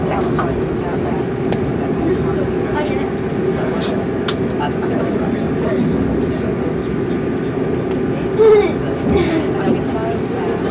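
A train rumbles steadily into Birmingham New Street station on the West Midlands network, a loud continuous low roar inside the carriage while a voice speaks over it.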